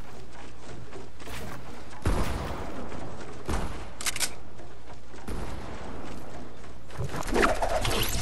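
Gunfire in a video game: several sharp, loud shots and bursts spaced through the stretch, with quieter game noise between them and no talk.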